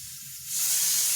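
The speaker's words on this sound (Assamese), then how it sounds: "হাই কুকাৰে ফিচে মাৰি আছে।" A pressure cooker releasing steam, a rising hiss that swells to a loud, bright sustained whistle within about a second.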